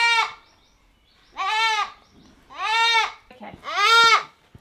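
Four loud, close goat bleats, each drawn out and wavering, separated by short quiet gaps with faint rustling between.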